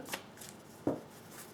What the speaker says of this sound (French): je vais prendre encore 4 cartes